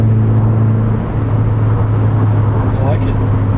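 Subaru BRZ with a new aftermarket exhaust idling on a cold motor, a steady low rumble with a slight dip and recovery, while people talk over it nearby.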